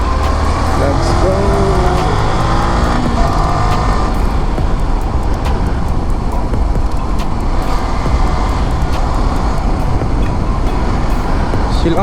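A Yamaha MT-15 motorcycle being ridden with friends through traffic, its engine a loud, steady drone with rising tonal notes early on, then a dense roar mixed with wind rush throughout.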